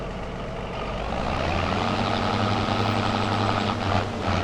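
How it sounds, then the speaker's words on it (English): Steady low tractor engine idling in Farming Simulator 25, a continuous heavy diesel drone with a constant low hum and no talk over it. "These tractors sound really good."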